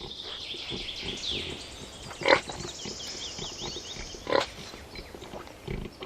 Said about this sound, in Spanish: hace siglos que se adiestran cerdos para localizar trufas